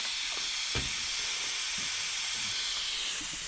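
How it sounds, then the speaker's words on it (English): Steam hisses continuously from a slightly leaking gasket on a pressure vessel, a steady broad rushing noise with a few faint knocks underneath and no speech. "gasket is leaking slightly"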